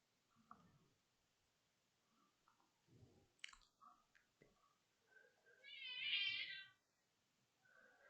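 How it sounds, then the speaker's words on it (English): A house cat gives one clear, drawn-out meow in a quiet room, preceded by soft scattered chewing and rustling noises and followed by faint shuffling. "I heard a cat."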